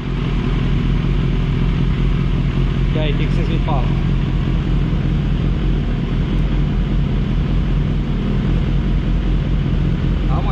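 A Cagiva 125 motorcycle engine, mounted out of the frame for throttle body balancing, runs steadily as it warms up, a constant loud drone throughout while someone speaks over it.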